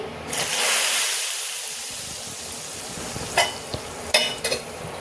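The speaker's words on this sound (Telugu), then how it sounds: "ఇంకా తాలింపు వేస్తున్నా అండి" Tempering sizzles as it is poured into a pot of pumpkin sambar, a sharp hiss swelling at once and holding steady, followed by a few clinks of a spoon against the pot.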